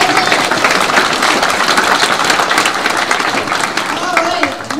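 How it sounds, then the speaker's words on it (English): A concert audience at a music event applauds in a dense, continuous wash of clapping that fills the space, fading slightly at the end. "So now I'm done, and now, can we clap?"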